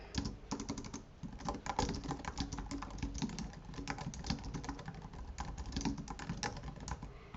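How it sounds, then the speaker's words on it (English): Continuous rapid typing on a computer keyboard, close and fairly quiet, with a steady stream of key clicks and no talking. "You would type that up here."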